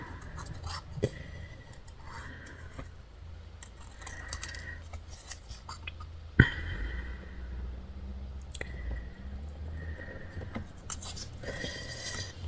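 Small scraping and slicing sounds of a precision craft knife cutting paper for scrapbooking, intermittent short strokes with a sharper snap midway, quiet and close.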